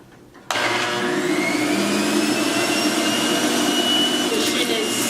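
Juicer machine switching on abruptly and running steadily while making detox juice, a loud, continuous motor whir with high whining tones, close and unbroken.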